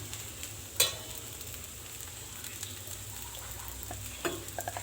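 Spicy karam attlu dosa with onion pieces fries on a pan in a steady, close sizzle, with a couple of light utensil scrapes and clinks.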